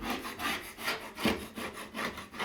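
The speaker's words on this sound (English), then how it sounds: "I'm gonna take a 5-in-1 or a scraper and go along and just get rid of this" A 5-in-1 tool scraping old caulking off an interior window sill, steady rhythmic back-and-forth rasping strokes, about eight close scrapes with no talk.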